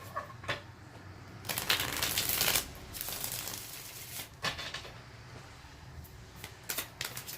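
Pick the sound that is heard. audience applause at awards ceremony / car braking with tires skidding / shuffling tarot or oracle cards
shuffling tarot or oracle cards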